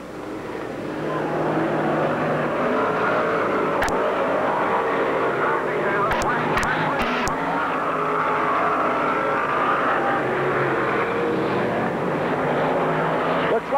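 Several race cars roar around a track in a close pack, engines droning steadily and loud throughout, with an announcer talking over the engine noise.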